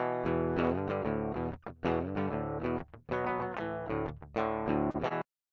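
A thin, dry electric guitar recorded with no amp picks a short rock riff in choppy bursts with brief gaps, then stops abruptly; no one speaks.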